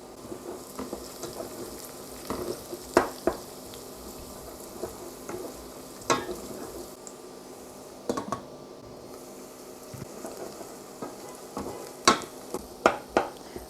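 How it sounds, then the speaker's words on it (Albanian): Onions and carrots fry in a pan with a low continuous sizzle, punctuated by sharper crackles and scraping stirs that recur irregularly every second or two, close and moderately loud, with no talking. "Masi qepa dhe karrota ka vërdisen"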